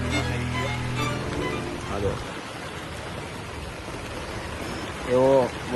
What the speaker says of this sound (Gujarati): આટલી બહુ ખતરનાક વરસાદ પડતો છે